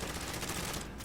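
Dense rapid gunfire from Call of Duty Modern Warfare Warzone, a continuous crackling fusillade of automatic shots filling the short moment at full intensity.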